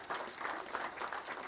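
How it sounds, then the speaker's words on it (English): An audience at an AI symposium keynote claps for the speakers, a brief, fairly faint patter of applause from a moderate crowd. "give a round of applause for our speakers here today"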